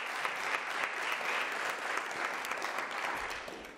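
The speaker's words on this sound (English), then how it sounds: "I think you really deserve a round of applause" An audience at a launch event gives steady, dense applause that holds evenly from a moderate distance and tapers slightly at the end.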